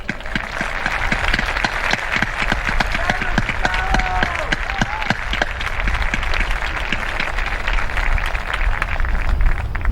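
A graduation audience claps for the class advisors, giving brisk, dense applause with scattered cheers that holds steady for ten seconds.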